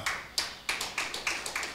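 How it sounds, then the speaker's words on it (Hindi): Light, sparse clapping from a church congregation during a Hindi sermon, about six soft separate claps spread out with no voices. "बहुत हल्की तालियां बजा रहे हैं आप लोग"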